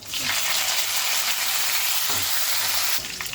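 Dried red chili pieces and curry leaves fry in hot oil, producing a loud, bright, continuous sizzle up close that dips briefly near the end before surging again.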